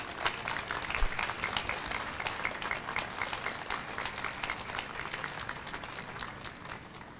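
An audience at a Veterans Day celebration at Moffitt Cancer Center applauds steadily as Jessica Schwarzkopf is welcomed, a dense, even clatter of many hands that fills the room and slowly tapers off.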